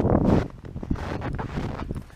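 Wind gusts buffet a camera microphone outdoors on a snowy woodland path in February, with a loud rumbling blast at the start, then steadier low buffeting and soft rustle.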